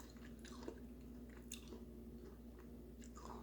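Someone eats Danish yogurt cereal with walnuts stirred into the yogurt late at night. Soft, moist chewing and squishy bites sound close to the mic over a steady low hum, with a few crisper crunches and no talk.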